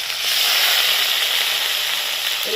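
Ground spice paste and a whole tomato hit hot oil for Bengali fish curry with giant taro, giving a loud, steady, close sizzle throughout with no talking.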